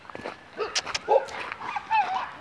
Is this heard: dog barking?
yes